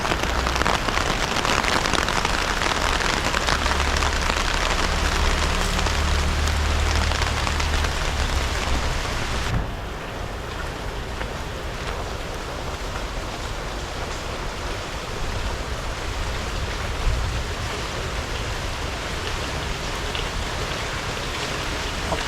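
Light rain falls steadily as a loud, even hiss, close by and heavier for the first half before easing slightly to a softer, continuous patter, with no talking.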